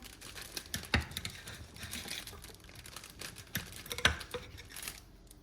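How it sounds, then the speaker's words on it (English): A knife slicing through a French baguette makes crackly, crunchy crust sounds in short bursts, with two sharper cuts standing out, heard close and alone. "Just going to cut a few slices off here."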